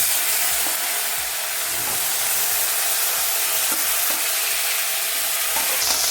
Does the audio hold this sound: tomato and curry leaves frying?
yes